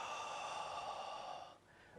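A long, relaxed exhale through the nose and mouth during a qigong session, a close breathy sigh that tapers off into quiet.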